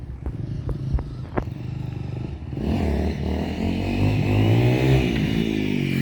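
A Honda CRF300L dirt bike fitted with a CBR300 clutch conversion and stock gearing is test ridden, its single-cylinder engine revving up and holding a loud, rising drone with some rattling from tools stowed on the bike.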